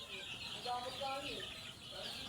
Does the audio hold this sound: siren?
no